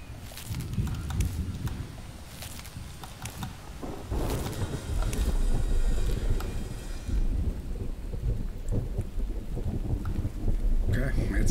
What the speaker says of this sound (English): Oh, rain's coming in.